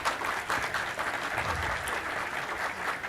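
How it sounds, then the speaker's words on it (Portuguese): An audience at a corporate panel event claps continuously while a group photo is taken, a dense, even wall of applause throughout. "uma foto que fica sempre mais bonita ao som de palmas"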